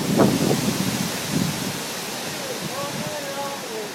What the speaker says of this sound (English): this is the sound of the wind blowing